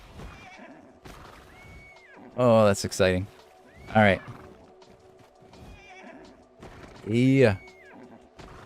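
A rainbow-coated horse in Ark Survival Ascended whinnies several times, with clopping hooves mixed under excited chatter from players.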